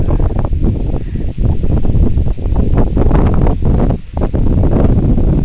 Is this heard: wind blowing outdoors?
yes